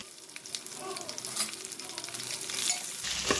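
Garlic, dried red chillies and chopped onion fry in a pan for a village-style curry, a steady close sizzle with faint stirring scrapes running throughout, no voices.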